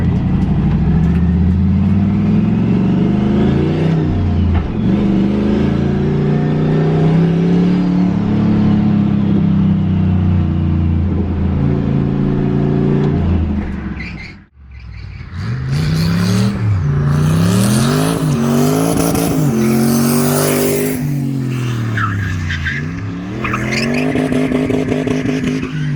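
Turbocharged LS-swapped Pontiac GTO drifting, its engine revving hard and loud with rising and falling pitch under heavy throttle, a brief lift near the middle before it screams back up amid tire noise.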